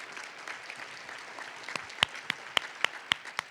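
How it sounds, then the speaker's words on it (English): Audience at a university scholarship luncheon gives a donor a round of applause, a soft diffuse clapping wash with a few sharper individual claps standing out toward the end, moderately distant. "we want to give Daryl, thank you, just a round of applause for all your family has done for us"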